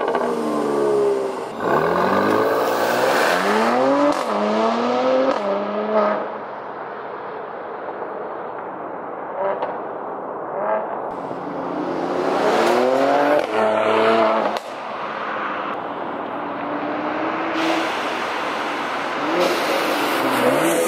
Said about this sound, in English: Let's do one more rev and one more launch,